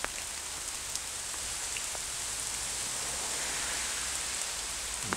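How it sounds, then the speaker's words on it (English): Heavy rain pours down steadily in Whitehouse Woods, Lamlash, Isle of Arran, a dense hiss of drops on leaves and ground with no voices. "Whitehouse Woods in the rain."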